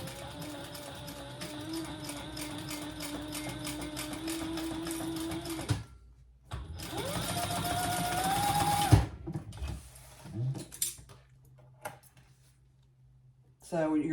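Sewing machine stitching along the side of leather waist pack pieces in sustained runs, stopping near the middle and again later, with a short spoken remark between bursts.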